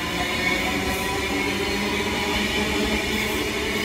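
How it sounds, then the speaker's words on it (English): A train rumbles past at a steady roar, wheels and carriages clattering continuously throughout. "Bye bye, train."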